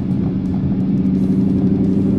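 A Ford Mustang cruises at 100 km/h in top gear over a harsh blue-metal road surface, giving a steady, loud low engine drone with continuous road and tyre roar throughout.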